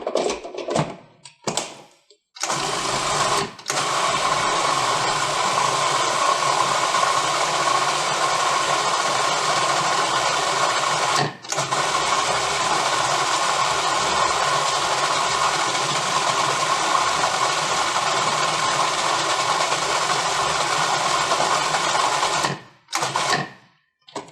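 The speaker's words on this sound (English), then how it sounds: "And then spin that in the blender." Blender spinning a pink dip made with half a teaspoon of fresh thyme, a steady loud whirring drone running for about twenty seconds after a few short starts, then stopping.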